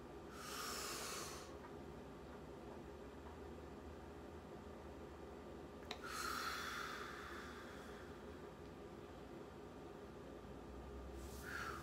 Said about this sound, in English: let's breathe in and breathe out